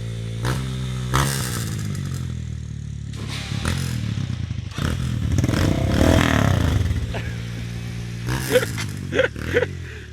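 Motorcycle engine revving and accelerating nearby on a trail ride in Simões Filho, rising and falling with clattering and scraping bursts, mixed with shouting voices.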